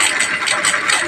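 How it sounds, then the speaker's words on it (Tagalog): A homemade electric bicycle motor converted from 48V to 72V runs with a continuous high-pitched whine and faint rattle, steady and close for about a second. "malakas din yung motor"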